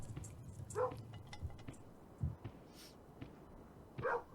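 A dog in the strategy game Kingdom Two Crowns gives a few short, faint barks spaced apart, with low game rumble and scattered clicks in between.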